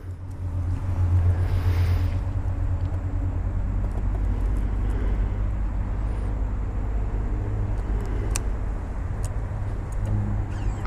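A Ducati Diavel Chromo motorcycle with a rimless exhaust rumbles steadily at close range while riding, a continuous low engine drone with a brief swell near the start.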